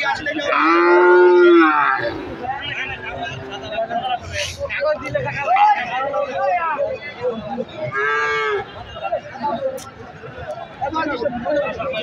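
Sahiwal cattle moo loudly at a busy cattle market. One long, deep low opens the scene, and further calls follow over a background of crowd chatter and people talking.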